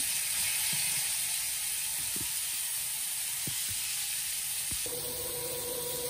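Loud, continuous sizzling of turmeric-and-salt-coated snakehead fish frying in hot oil in a wok, with a few light clicks and taps along the way.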